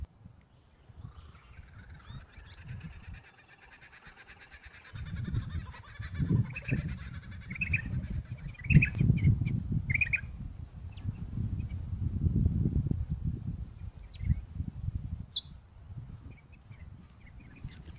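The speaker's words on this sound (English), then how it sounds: "This is a beautiful Mulga parrot at Murray Sunset National Park at the Pink Lake section, Crosby." A male Mulga parrot calls at the Pink Lake section of Murray Sunset National Park in Australia, giving faint, scattered high chirps over a low wind rumble, with no talk.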